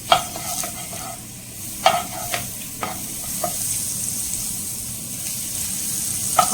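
Butter melting in a pan for a palak paneer and capsicum butter gravy gives a steady soft sizzle, with several sharp stirring scrapes and clinks near the start and again at the end.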